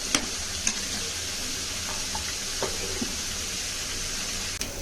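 Onion curry with egg, turmeric and chilli sizzles and fries steadily in a pan, a constant crackling hiss with a few sharp stirring clicks and scrapes, no talk.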